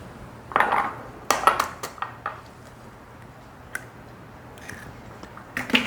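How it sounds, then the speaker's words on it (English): Four eggs cracked one by one into a mixing bowl for an old carrot cake recipe, sharp close taps and clinks of shell on the rim in small clusters with quiet gaps between. "So I'm going to put my 4 eggs in."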